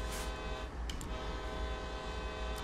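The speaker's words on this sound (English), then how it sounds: "Honk the horn." Train horn of a Union Pacific AC4400CW locomotive in Train Sim World 2, a steady loud blare over low engine rumble, sounding throughout without any voices.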